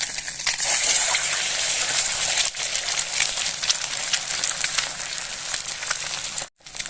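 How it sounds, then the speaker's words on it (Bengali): Two eggs dropped into hot oil in a pan crackle and spatter loudly and steadily up close, then the sizzle cuts out briefly near the end, with no voices. "এরপর দেখুন আমি এই 2টো ডিমকে এতে ভেজে"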